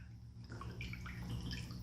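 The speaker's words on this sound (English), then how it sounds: "The motor is super quiet. All I can hear is the water sound, which is super soothing and calming, relaxing." Water trickles and splashes steadily through a tabletop indoor water fountain with a quiet motor and colored LED lights, a soft continuous bubbling with small drips, close and gentle, with no talking.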